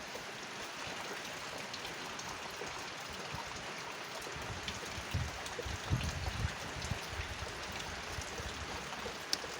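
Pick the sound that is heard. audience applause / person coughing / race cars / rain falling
rain falling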